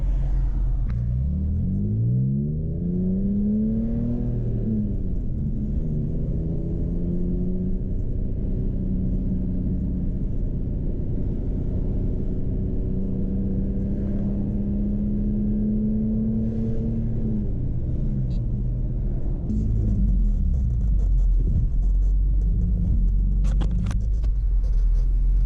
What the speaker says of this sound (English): Now when I put that AFE cold intake,